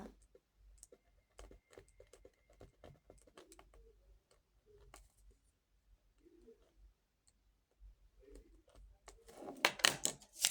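Sparse, faint clicks of keys being typed, spread irregularly with pauses, ending in a louder cluster of quick taps; no voices.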